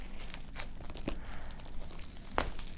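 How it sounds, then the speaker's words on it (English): Plastic wrap ripped off a Samsung Galaxy S III box: close crinkling and crackling with a sharper tearing snap near the end, no voices over it. "Go ahead and rip the plastic open."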